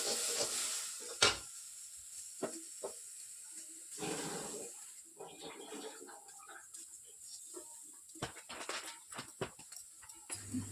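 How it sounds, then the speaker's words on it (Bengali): Vegetables frying in a pan, a soft sizzle and hiss with scattered clinks and stirring scrapes, fairly quiet and close, with no talk. "আর অন্যদিকে আমি সবজিগুলো ভাজছিলাম"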